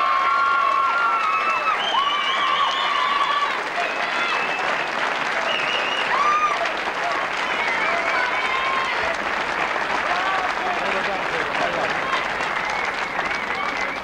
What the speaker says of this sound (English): That's the Leicester crowd.